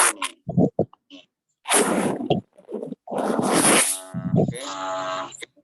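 An eraser scrubs handwriting off paper during a maths lesson on fractions, in several short, close, rasping bursts of rubbing separated by brief pauses.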